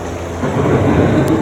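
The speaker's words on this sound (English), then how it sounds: "Storm is approaching" A rumbling thunderstorm effect on an indoor boat ride at EPCOT, Walt Disney World, swells up after a brief lull, low and steady, with a wash of rain-like hiss over it.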